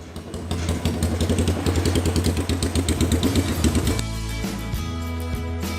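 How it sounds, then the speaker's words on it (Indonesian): A 2010 Yamaha Scorpio, converted to an old-school bobber softail, runs close by with a rapid, loud pulsing engine beat that settles into a steadier, smoother idle for the last couple of seconds. "Basic motor ini adalah Yamaha Scorpio keluaran tahun 2010 yang dimodifikasi dengan gaya bobber softail."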